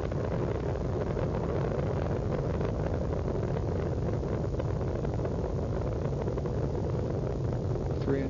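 Space shuttle Discovery climbing on its three liquid-fuel main engines at full throttle during launch, a steady, heavy rumbling roar with a buzzing, wind-like texture that persists without pause.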